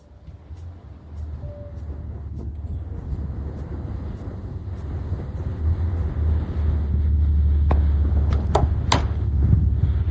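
A BMW car engine runs with a low, building rumble that grows louder and steadier, with a few sharp clicks and knocks near the end, heard close up with no talk.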